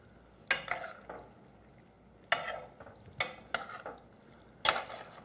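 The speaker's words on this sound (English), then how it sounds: "Stir this up real good." Crawfish and fat being stirred in a pot, giving a handful of sharp scraping, clattering strokes with soft sizzling between them, close and fairly quiet with no voices.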